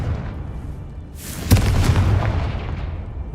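A Confringo blasting spell explodes in a Harry Potter video game on hard mode: a sharp, loud boom at about 1.5 seconds, then a low rumbling tail that fades slowly over a steady background hum.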